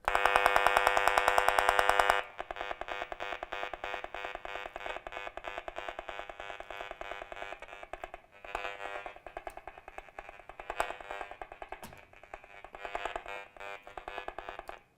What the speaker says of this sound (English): let's turn on the meter and both hear and see what this sounds like in the kitchen area